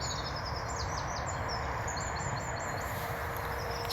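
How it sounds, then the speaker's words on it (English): Wild birds sing with faint, high chirps and short calls at a distance along a nature trail at Big Waters in Northumberland, over a steady outdoor hiss. "It's quite wild here. You can hear the birds."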